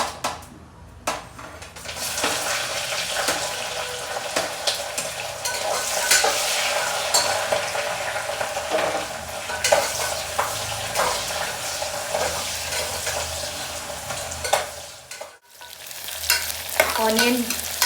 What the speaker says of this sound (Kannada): ಆನಿಯನ್ ಚೆನ್ನಾಗಿ ಫ್ರೈ ಆಗಬೇಕು, ಗೋಲ್ಡ್ ಕಲರ್ ಆಗಬೇಕು.